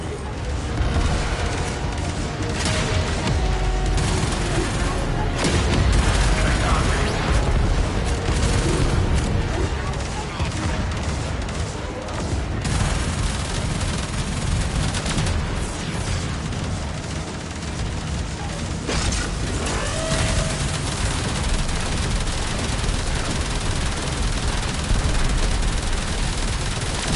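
Railjack weapons in Warframe fire steadily, with dense bursts of gunfire and booming explosions in a loud, continuous barrage, and voices speak over the din.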